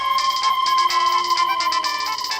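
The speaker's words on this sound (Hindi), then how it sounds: "ये तो मेरी रिंगटोन है।" A mobile phone ringtone plays loud and close, a steady electronic melody of bright repeating tones with no talking over it, sounding in a Hindi courtroom drama.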